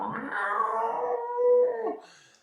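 A person imitates a dog's low growl in one sustained, wavering vocal tone lasting about two seconds, loud and close, fading out at the end.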